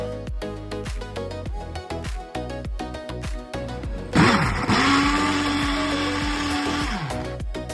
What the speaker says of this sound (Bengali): প্রথমে পুদিনা পাতাগুলো ব্লেন্ড করে নিয়ে তাতে লেবুর রস আর সামান্য বিট